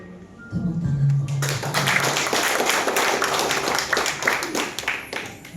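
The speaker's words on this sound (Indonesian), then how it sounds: "Tepuk tangan." After a brief voice, a church congregation breaks into loud, sustained applause that carries on steadily to the end.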